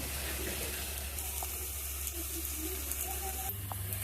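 Kasuri methi and fried onions go into a soybean curry in a kadai, which gives a continuous close sizzle and hiss of frying with faint clinks, and a brief shift in tone near the end.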